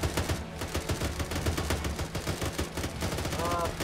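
Dense, continuous automatic and rapid gunfire in an ARMA 3 firefight, loud and near with overlapping bursts throughout, while players' voices can be heard faintly underneath.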